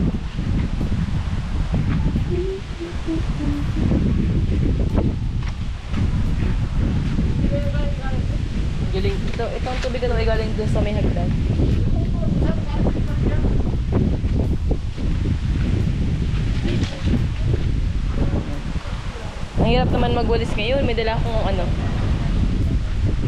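Strong wind blowing outdoors at a bamboo hut, a constant loud rushing buffet against the microphone, while a person talks over it.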